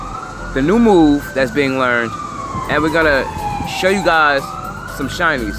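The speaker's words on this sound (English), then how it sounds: "Sorry about the sirens in the back." Wailing emergency vehicle sirens rise and fall in the background at a park, running steadily beneath a man's close, continuous talking.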